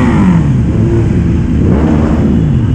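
A motorcycle engine at a Christmas moto rally in Mirano revs loud and close, with rising and falling throttle sweeps over a constant rough roar and no voices.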